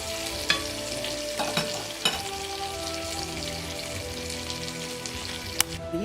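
BBQ chicken wings with bell pepper fry and sizzle steadily in a hot pan, with occasional sharp clacks of a utensil stirring and turning them, close up and without talk.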